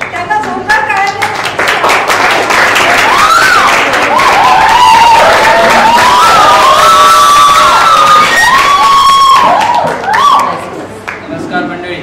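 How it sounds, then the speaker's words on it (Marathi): An audience at a stage event breaks into loud, sustained applause mixed with shouts and cheers, swelling and then fading toward the end. "त्यांना जोरदार टाळ्या."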